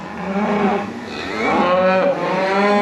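Cows moo loudly and close by, one long low call followed by overlapping, rising bellows from more than one animal.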